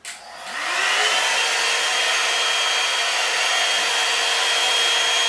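A knock-off copy of the Revlon One Step hair dryer brush switched on at its low, cool-air setting, rising quickly into a loud, steady whirring blow with a constant high whine that continues unbroken to the end.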